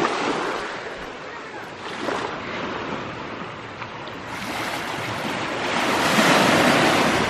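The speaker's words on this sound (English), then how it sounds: "Here comes the wave." Ocean waves breaking and washing ashore in the Maldives, a continuous loud roar of surf with wind buffeting the microphone, swelling stronger toward the end.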